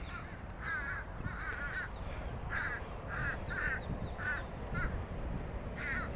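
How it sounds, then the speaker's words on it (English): A crow caws repeatedly in bursts of harsh calls, moderately close, against steady rain-like background noise on a rainy day walk. "I think this is the same crow I see all the time."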